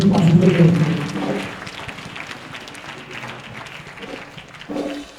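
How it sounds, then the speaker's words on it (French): An audience applauds for Esther with a short burst of clapping that fades to a softer patter, while a voice is heard at the start and again at the end. "Acclamez pour Esther."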